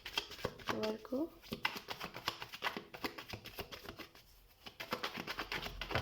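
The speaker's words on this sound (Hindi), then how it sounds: "तो सबसे पहले हम कार्ड शफल कर लेते हैं।" Tarot cards are shuffled with soft, steady riffling and slapping that runs through most of the stretch, close and fairly quiet, while someone talks over it.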